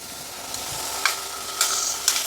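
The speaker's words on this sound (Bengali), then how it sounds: "এখন আমি এর মধ্যে দিয়ে দেবো টমেটো কুচি" Chopped tomato goes into a sizzling, well-cooked masala for a Bengali katla fish curry. A steady close fry hiss is broken by a few sharp splattering bursts and light stirring scrapes, with no voices.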